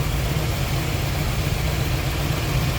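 A 1956 Chevrolet Corvette convertible engine idles with a steady, low rumble and constant broadband noise, close and fairly loud, without variation.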